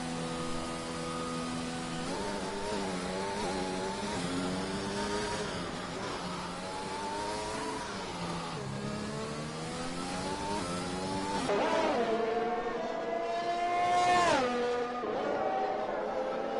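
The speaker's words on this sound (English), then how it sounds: "As we see a McLaren and Aston Martin are pulling out of the pits as well." Formula 1 cars in a racing video game, McLaren and Aston Martin leaving the pits, whine through rising and falling revs with clear harmonic engine tones. The engines grow louder near the end as the cars pass close.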